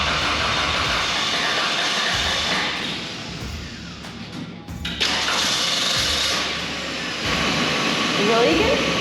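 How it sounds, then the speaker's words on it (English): A gasoline engine in a 1985 classic RV runs steadily at close range as a loud continuous rumble, with a brief dip midway, a leaking fuel filter noted on the rig, and voices talking over it. "We got the engine running."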